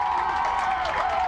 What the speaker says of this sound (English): And now the Bettendorf crowd is on its feet, and they're into this game.